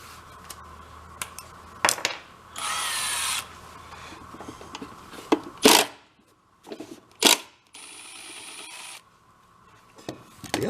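A power tool works a bolt loose from a leaf blower's fan in short bursts of whirring and rattling, mixed with metallic clicks and clatter of handling parts, close and alone without speech.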